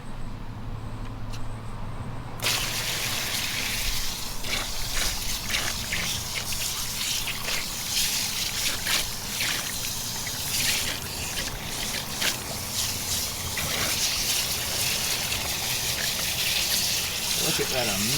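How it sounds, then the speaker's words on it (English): Running water gushes steadily from a tap over a tie-dye t-shirt being rinsed out, a loud continuous splashing stream close by that starts abruptly after a quiet moment. "Here to rinse out another t-shirt for you."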